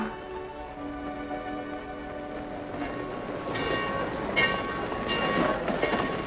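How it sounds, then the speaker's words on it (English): A train at a station rumbles and clatters steadily with rhythmic wheel clicks, a sustained horn-like tone sounding at first, with no talking. "Your train's about to leave."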